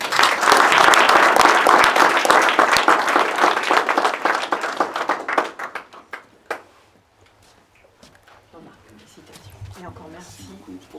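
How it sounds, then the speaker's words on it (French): Audience applause at a medal presentation during a 8 May 1945 commemoration ceremony, a dense burst of clapping that fades out after about five seconds, leaving scattered claps and quiet room noise. "Je vous remercie de l'applaudir."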